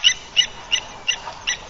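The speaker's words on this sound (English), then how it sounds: "Guinea fowl getting ready to roost for the night." Guinea fowl settling to roost at dusk give a run of five sharp, rhythmic calls, evenly spaced, close and fairly loud, with no talk.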